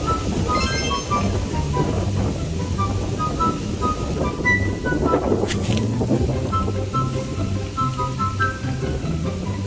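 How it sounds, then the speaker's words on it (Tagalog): Strong wind rushes steadily across the microphone on a forest hiking trail, with birdsong chirping over the continuous roar and faint rustling in the background. "ang lakas ng hangin"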